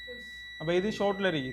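A multimeter gives a continuous steady continuity beep when probing the shorted VBAT battery line of a Redmi 14C phone with no power. The tone holds throughout while someone talks over it in Tamil.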